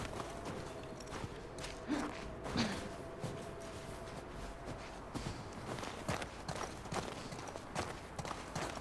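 Horse hooves plodding in the video game The Last of Us Part 2, irregular clip-clop steps at a walking pace, quiet and somewhat distant over a soft ambient background.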